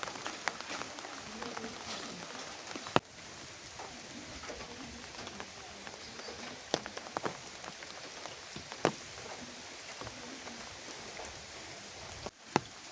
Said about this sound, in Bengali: বৃষ্টি হইতেছিল মানে একদম ঠাসা বৃষ্টি ঝাড়া বৃষ্টি যেটাকে বলে